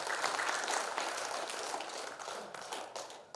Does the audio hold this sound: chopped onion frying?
no